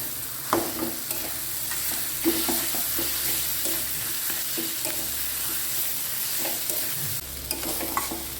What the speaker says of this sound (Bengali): কড়াইয়ের মধ্যেই মাছটাকে খুন্তি দিয়ে একটু ভেঙে দেবো